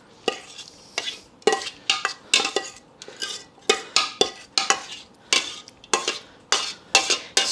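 Utensil scraping sausage mixture out of a pan for an andouille sausage casserole: a rapid series of sharp scrapes and clinks against metal in an irregular rhythm, close and loud, with no talk.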